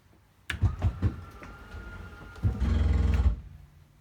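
An RV slide-out motor whirs and strains, with a few dull bumps early on, then a louder grinding hum for about a second at full extension before it cuts off.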